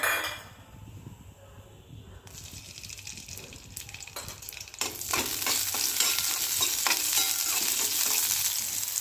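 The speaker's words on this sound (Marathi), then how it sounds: "पाच सहा हिरव्या मिरच्या घेतल्या बघा त्याच्यावरती थोडंसं तेल टाकून भाजून घेऊया" Five or six green chillies roasting in a little oil in a pan, frying softly at first and then breaking into a loud, steady crackling sizzle that continues close-up to the end, with no talking.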